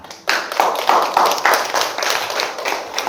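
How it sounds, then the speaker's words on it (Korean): An audience at a Saturday history lecture in a memorial hall bursts into clapping after a brief quiet start, with loud, near hand claps in a brisk, uneven patter that continues to the end. "이럴 때 박수 쳐야 되지 않나요?"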